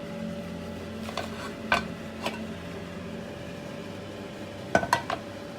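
Oil heating and bubbling in a cooking pan before onions and mustard seeds go in, a soft steady sizzle with a few sharp clinks of a utensil against the pan.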